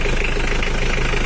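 A Mitsubishi L300 of older vintage with a rough-sounding engine idles steadily while warming up, a continuous close low rumble with a fast regular knock, heard alone.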